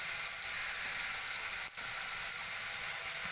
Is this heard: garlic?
yes